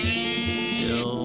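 A drum sanding tool runs continuously on a scratch-built 1/100 scale spaceship model, giving a steady close buzzing whine with a brief rise in pitch near the end.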